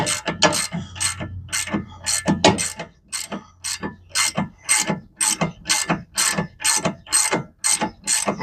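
A ratchet clicks in quick, even bursts, tightening bolts on the rear strut of a 2008 Toyota Highlander, loud and close, with no talking.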